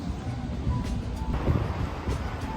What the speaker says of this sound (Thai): ลมแรงมากจ้า